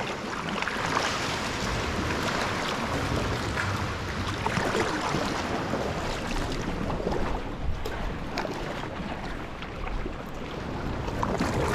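Ocean swell surging against a rocky coast with caves, barnacles and anemones, a continuous loud roar of churning waves and wash with no pauses.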